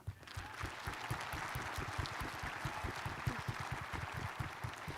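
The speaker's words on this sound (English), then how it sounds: "You may now applaud." Sustained applause from a large audience at a high school graduation ceremony, dense and steady clapping filling the hall for several seconds with no talk over it.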